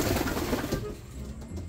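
Jansen racing pigeons, white birds in a loft, give soft low cooing close by, with a murmur of rustling and a steady background hiss.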